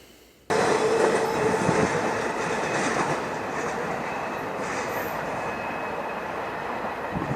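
A freight train rumbles past at close range, a loud, steady roar of wheels and rail noise that starts abruptly and holds for several seconds.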